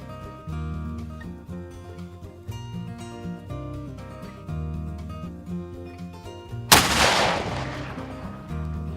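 A historic cannon fires once in an artillery demonstration at Hofwyl-Broadfield state park, a single loud, sharp boom that rolls off into a long decaying rumble after several seconds of steady background music.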